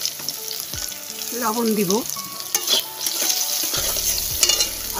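Eggplant and potatoes fry in a pan with a continuous close sizzle and scraping stirs, someone speaking briefly over it and a low hum near the end.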